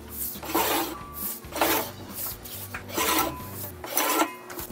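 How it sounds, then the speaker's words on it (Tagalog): A sliding cutter trims laminated prints in a print shop with about four rhythmic rasping strokes, each a close scraping swipe, over a low background hum. "So gagamit tayo guys ng sliding cutter."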